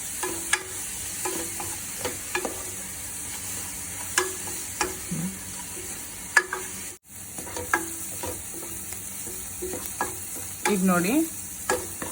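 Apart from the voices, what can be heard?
onions frying until golden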